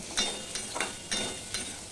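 Carrots and potatoes fry together in oil in a wok under a continuous sizzle. About four regular scraping stir strokes punctuate the frying, and no one speaks.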